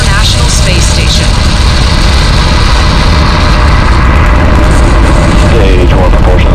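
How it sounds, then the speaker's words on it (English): A SpaceX Falcon rocket carrying the CRS-22 cargo resupply mission lifts off with a continuous, extremely loud crackling roar that fills the whole stretch, with a commentator's voice partly under it. "Ignition. Liftoff. And liftoff of the 22nd SpaceX cargo resupply mission"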